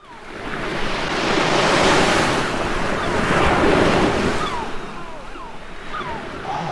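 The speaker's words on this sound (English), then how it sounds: "Oh, honestly, the waves and the sea." Sea waves break on a beach, a loud near surge that swells, crashes and recedes twice, with wind buffeting the microphone.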